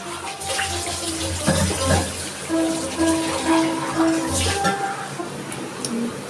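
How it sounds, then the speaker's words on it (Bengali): Water poured into a pan while cooking young jackfruit, a close gushing splash and trickle with faint clinks, rising and falling over a few seconds. "আমি এবার দিয়ে দিচ্ছি জল।"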